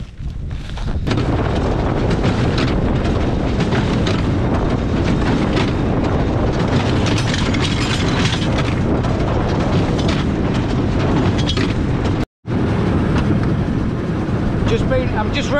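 A straw baler runs in a field at harvest, giving a loud, continuous mechanical rumble and clatter with a brief cutout near the end, while someone talks over it.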